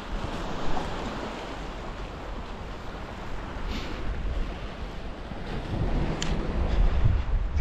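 Sea waves wash onto a winter shore at Yalta, a steady broadband surf roar mixed with wind buffeting the microphone, rising slightly toward the end, with no voices.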